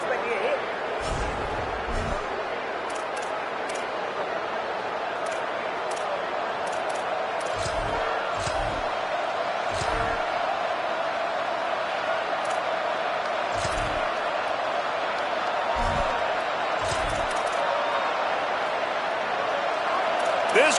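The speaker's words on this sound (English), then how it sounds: "This crowd bringing the energy and noise early." Stadium crowd in the NCAA 27 college football video game, a dense steady roar running throughout with occasional low thumps, heard under continuous commentary.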